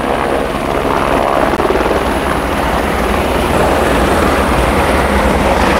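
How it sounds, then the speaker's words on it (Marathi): A helicopter lands close by with a loud, steady rotor thump and engine roar that holds strong throughout, no voices over it. "इथं माझ्या समोर हेलिकॉप्टर आहे आणि एकदम समोरनं आपण हेलिकॉप्टर उतरताना बघायला लागलं आहे"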